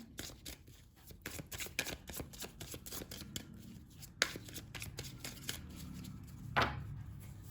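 A tarot deck is shuffled by hand in a quick run of crisp, riffling card flicks, a louder slap near the end, with no talking.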